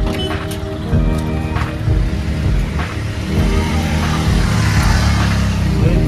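Steady engine drone and road rumble of an auto rickshaw, taken from the rear side of a gate near Nerul, continuous and fairly loud with traffic noise around it.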